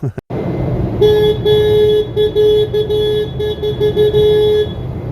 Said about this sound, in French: il klaxonne avec le gasoil du patron